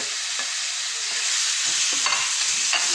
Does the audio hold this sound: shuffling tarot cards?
no